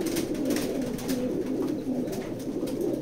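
A pigeon in a loft coos in low, soft, rolling calls that repeat steadily, close by and clear, with no voices.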